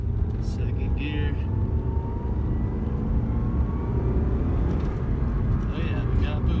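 A stock, turbocharged 2004 Subaru WRX accelerates in second gear under boost. A loud, steady engine drone and road rumble are heard from inside the cabin.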